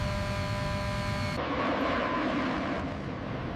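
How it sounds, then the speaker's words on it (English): A B-52 bomber accelerating down the runway on takeoff, a loud continuous jet roar with a steady hum that holds at full volume throughout. "The B-52 is rapidly increasing in speed, consuming huge lengths of the runway."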